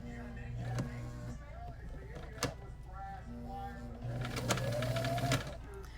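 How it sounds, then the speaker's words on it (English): A sewing machine stitches along a double-layer fabric face mask with a filter pouch and nose wire, running in two bursts of steady mechanical whirring separated by a pause, close and moderately loud. "I'm gonna continue to sew right along this."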